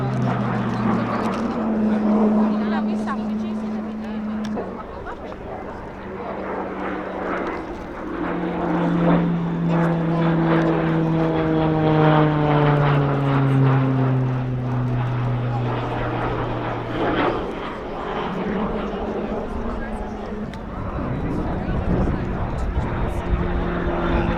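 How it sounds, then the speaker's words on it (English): A Texan T-1 training aircraft flies a display at an airshow, its propeller engine droning steadily with pitch sweeps as it banks and passes, loud and sustained under an announcer's running commentary. "the Texan T-1 aircraft is working up to replace the Tucano"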